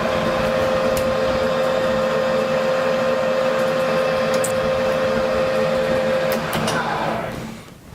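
A metal lathe running with its feed engaged, a steady mechanical hum and whine with a constant tone, close and continuous, with a few faint clicks before it winds down near the end.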